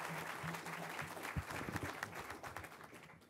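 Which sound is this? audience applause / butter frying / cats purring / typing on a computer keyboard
audience applause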